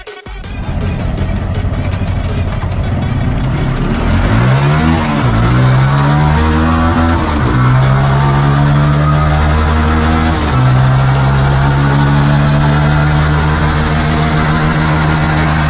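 Motorcycle engine fitted with an ignition coil booster box, running loud and close on a loaded dyno, revving and climbing in pitch through several gear steps over about fifteen seconds, with no talking.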